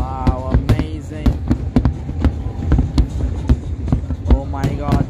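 Record-breaking New Year fireworks at Al Marjan Island pop and crack in a dense, irregular series of loud bursts, with excited spectators' voices rising over the booming display near the start and again at the end.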